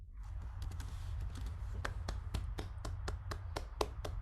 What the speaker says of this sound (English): Another round of applause to the finalists today who did an amazing job.